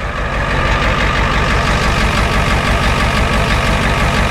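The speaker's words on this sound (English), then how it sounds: "I want you to hear this exhaust." A 1983 Ford F-350 pickup truck's exhaust idles with a steady, deep, throaty rumble, loud and close, running evenly without pause.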